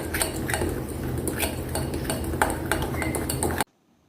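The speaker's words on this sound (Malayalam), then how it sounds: "ആദ്യം സ്പൂൺ കൊണ്ട് മിക്സ് ചെയ്തതിന് ശേഷം നമുക്ക് കൈ കൊണ്ട് നന്നായിട്ടിത് മാവ് കുഴച്ചെടുക്കണം." A spoon mixes cake dough in a bowl for a sliced tea-shop cake, giving steady scraping and repeated clinks against the bowl with no talking, then it stops abruptly near the end.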